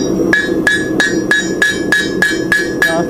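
Hammer blows on a hot iron horseshoe being punched for nail holes at a forge, a steady series of about nine loud, evenly spaced ringing metallic strikes with no talking.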